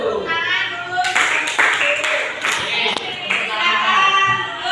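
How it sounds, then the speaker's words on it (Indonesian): Students in a classroom clapping, a burst of quick uneven handclaps from a small group, close and lively, mixed with children's voices chattering over it. "Tepuk tangan dulu."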